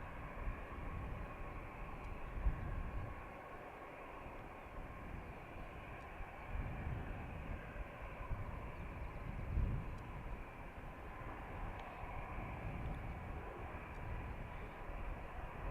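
A Qatar Airways Dreamliner taxis at Dublin Airport, its engines giving a steady, distant roar and hum that holds level throughout with no speech.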